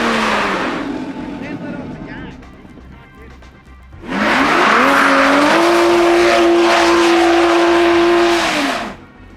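A rebuilt Toyota Supra, set up as a rally car, roars through a burnout with tires squealing, then the engine drops back before surging again into a long, loud, steady high rev with screeching tires before cutting off.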